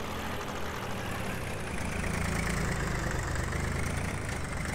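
Zetor HMT 2511 mini tractor in Farming Simulator 18 pulls a rotavator, its engine droning at a steady low idle-like level with no talk over it.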